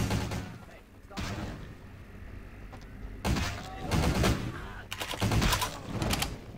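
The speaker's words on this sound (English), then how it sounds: "Why are they firing at me when Gary is the one that's killing them?" Rapid bursts of gunfire, several volleys of sharp cracks separated by short pauses, loud and close, with a voice talking between and over the shots.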